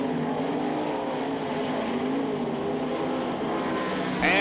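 Several 360 sprint race cars roar around a dirt oval at the Knoxville Nationals, a dense, continuous engine drone with overlapping revs as cars battle down the backstretch, loud and close throughout with a sharp burst at the end.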